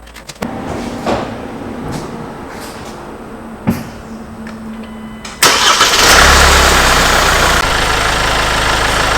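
Kia All New Carnival engine with poor fuel economy and low power after an engine flush: a few clicks and clunks, then the engine turns over and settles into a loud, steady close-up idle.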